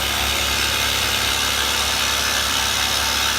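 A milling machine's X-axis power feed drives the table along, giving a steady, continuous motor hum with mechanical whine, close and even throughout with no talking.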